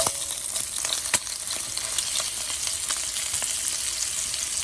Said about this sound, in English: So now that our bacon is browning, let's add the raw veggies to that.